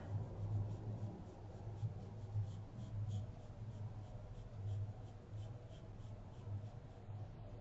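Pencil scratching steadily across paper while an archway is sketched in a perspective drawing, a soft continuous rubbing with faint repeated strokes, close and alone.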